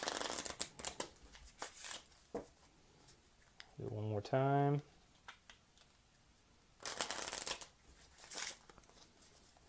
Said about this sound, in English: So we're going to go ahead and shuffle those up.